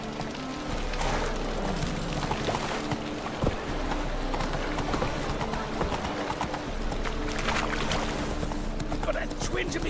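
Roach the horse's hooves clip-clop steadily at a walking pace through The Witcher 3: Wild Hunt, close and continuous over a low game ambience with occasional background voices.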